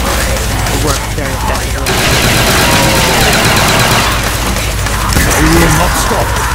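Twin pistols fire in a shooter video game, a dense rapid fusillade of shots running the whole stretch over loud rock music and game noise.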